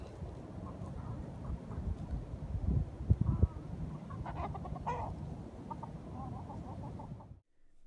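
Chickens clucking in short bursts over a busy, low murmur of background noise, moderately close, ending in sudden silence.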